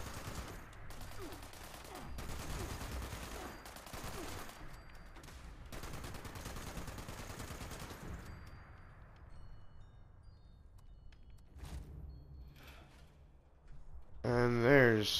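Bursts of gunfire in the video game Fallout 76, rapid volleys of shots in the first half fading to scattered sounds, with a voice talking near the end.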